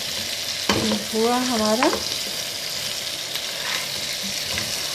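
Chicken curry masala with turmeric frying in a pan, a constant close sizzle with stirring scrapes throughout, a short spoken phrase briefly over it early on.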